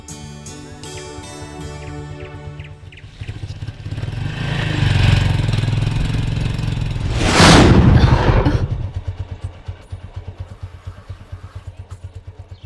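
A motorcycle engine idling with a steady thump, then revving up loudly and roaring close by before settling back to a chugging idle. No one talks over it.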